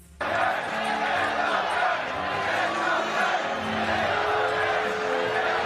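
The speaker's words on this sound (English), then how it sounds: "he was met with a wave of boos and jeers from a crowd" A large crowd at the Libertarian National Convention booing and jeering Donald Trump, a loud, sustained roar that starts abruptly and holds steady throughout.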